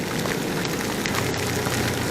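Steady broadband rain patter, likely falling on a vehicle or nearby surfaces during a rainy-season drive, continuous and fairly loud with no talk.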